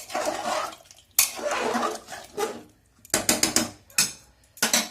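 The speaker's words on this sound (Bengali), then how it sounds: "এই একটু জায়ফল একটু জাস্ট একটু ক্রাশ করে দেব" Nutmeg being crushed for a mutton curry, a series of close, sharp grinding and knocking bursts in irregular rhythm, some in quick clusters, with brief silent gaps between them.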